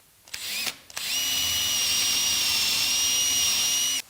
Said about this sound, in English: So I've got a clearance drill